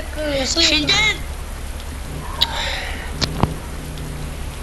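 Rain falls with a steady soft hiss in the background while people speak briefly over it and a few sharp taps sound.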